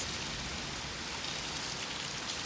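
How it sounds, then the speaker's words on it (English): Heavy rain pours outdoors during a thunderstorm in New England's rainy season, a dense, unbroken hiss of drops striking surfaces, steady and loud with no talking. "Yes, I'm outside in a thunderstorm and it's pouring buckets."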